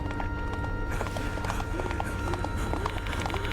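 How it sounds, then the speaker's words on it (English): Horse hooves galloping in the Spirit Hunter: Death Mark II horror game, a steady run of rapid clopping beats over a constant low rumble, fairly loud and continuous, with no talk. "The horse's footsteps were getting closer and closer, and now they could hear its rough breathing."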